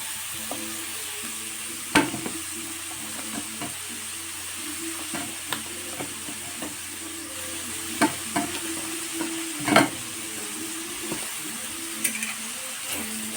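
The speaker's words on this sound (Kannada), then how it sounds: "ಈಗ ನಾನು ಹೆಚ್ಚಿಟ್ಕೊಂಡಿರೋಂಥ ಬೀಟ್ರೂಟ್ ಎಲ್ಲ ನಾನು ಇದಕ್ಕೆ ಹಾಕ್ತೀನಿ." Chopped beetroot frying in a pan for a beetroot palya, with a steady soft sizzle and scattered scraping clicks of a spoon stirring, quiet and close, with no voices.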